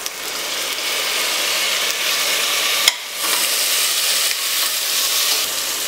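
Onions and tomato fry in a pan with a loud, steady sizzle and hiss, briefly interrupted by a sharp clack and stir before the crackling frying resumes.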